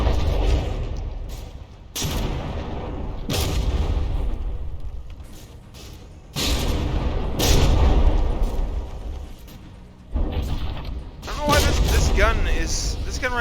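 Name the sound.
battleship guns firing in video game From the Depths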